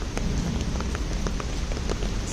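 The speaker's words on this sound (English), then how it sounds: "Oh, the rain is blowing at an angle." Steady rain falls in a cemetery, blowing at an angle in wind, a dense, close hiss of drops with scattered sharper splats and no talk.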